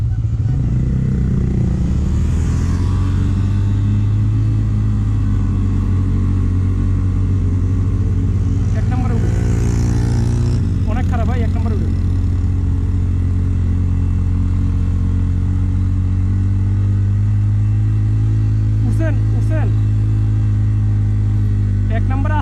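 Yamaha FZS V3 motorcycle climbing a steep uphill road in first gear, a loud, steady, labouring engine rumble close by throughout, with people talking over it.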